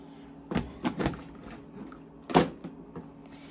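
A makeup storage cabinet opened at home, giving a few soft wooden thunks and knocks from handling the doors, with one louder bump near the middle, close by and without talk.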